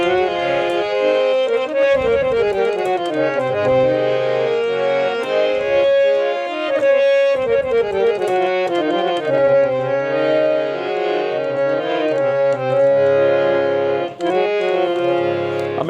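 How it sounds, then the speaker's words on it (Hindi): A DMS 18RG harmonium in cherry colour plays a continuous run of reedy chords and melody, full and steady for the whole stretch with short breath-like dips, no voices. "मैं आपको ये बजा के दिखाता हूँ जो हमारा 18RG है।"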